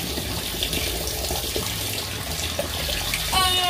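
A bathtub tap runs steadily as the tub fills with water, a continuous close rushing wash with no talk over it.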